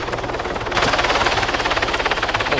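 A helicopter in the ARMA 3 video game thumps with a rapid, steady rotor pulse over a loud broadband engine roar, close and sustained throughout.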